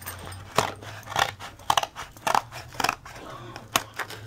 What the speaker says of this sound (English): now you will cut all the sides.